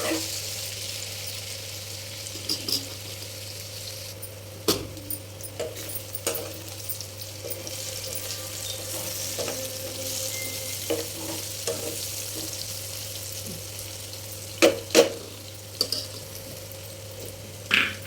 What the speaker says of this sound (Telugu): 2 పచ్చిమిర్చి చీలికలు వేసుకున్నాను, వాటిని కూడా ఫ్రై చేసుకోండి.